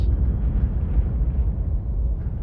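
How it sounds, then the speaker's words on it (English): Depth charge and torpedo explosions in the submarine game Cold Waters, a deep, muffled rumbling blast that rolls on continuously for a couple of seconds, heavy in the low end and fairly loud. "he's spamming torpedoes and depth charges"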